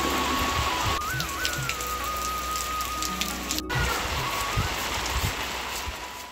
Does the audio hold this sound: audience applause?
no